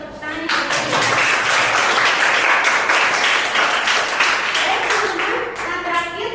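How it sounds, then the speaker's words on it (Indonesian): Schoolchildren in a classroom clap their hands together, a dense, steady patter of many hands sustained for several seconds before thinning slightly at the end. "terima kasih Kenny sudah berikan tepuk tangan."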